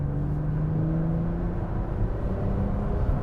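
A 600bhp Nissan GT-R pulls hard in fourth gear without full throttle, a steady close engine drone with a rising low rumble that holds throughout.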